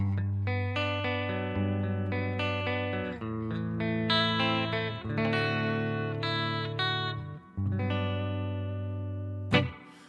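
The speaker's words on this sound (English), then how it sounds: "if we put the chorus on manual, we can now adjust the depth and the rate." Sustained electric guitar chords through a Headrush multi-effects unit's chorus, with a shimmering, wavering tone, ringing continuously, ending in a brief sharp accent.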